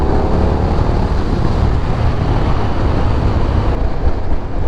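A KTM 1290 Super Duke GT motorcycle engine pulls steadily under acceleration from around 30 mph, a loud continuous roar mixed with heavy wind rush at close range.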